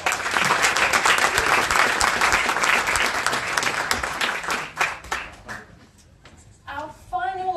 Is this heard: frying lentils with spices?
no